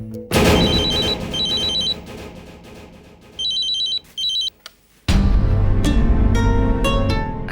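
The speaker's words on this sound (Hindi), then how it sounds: "कब से फोन बज रहा है?" A telephone rings in repeated electronic bursts inside a home in a Hindi TV drama scene, then stops as loud dramatic background music swells.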